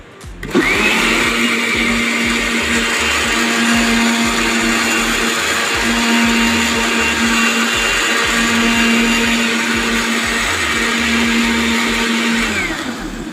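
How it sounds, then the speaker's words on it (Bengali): A kitchen blender purees fresh mint leaves, lemon and water in a loud, unbroken motor whine that starts abruptly and runs at a steady pitch to the end, with no talking over it. "ব্লেন্ডারটা অবশ্য ভালো ঠিক করতে হবে যাতে পুদিনা পাতাটা একদম ফিনিশ হয়।"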